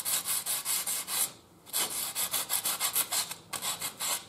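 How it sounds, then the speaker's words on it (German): Fine sandpaper rubs back and forth across the surface of an old two-stroke scooter piston in close, steady scratchy strokes, about a dozen passes with a short pause near the middle. "nachdem wir die Oberfläche einigermaßen schön sauber und glatt geschliffen haben mit ganz feinem"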